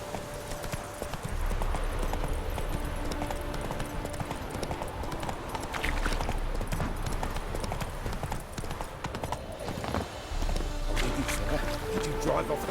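Geralt's horse Roach gallops in The Witcher 3, a steady rapid clip-clop of hooves running throughout over game ambience and music, with spoken dialogue mixed in.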